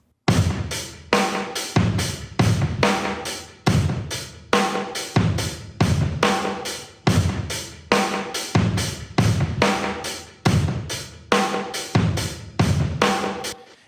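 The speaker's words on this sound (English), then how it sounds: "So I'll bypass this EQ in and out, and you can hear what this move is doing." Drum mix of a rock groove with an EQ switched in and out, loud rhythmic kick and snare hits repeating steadily with no voice.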